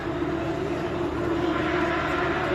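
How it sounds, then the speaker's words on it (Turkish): Helicopters pass overhead at the Monza Formula 1 circuit during the Italian Grand Prix weekend, a steady loud rotor and engine drone filling the whole stretch without any break. "Helikopterlerimiz de geçiyor."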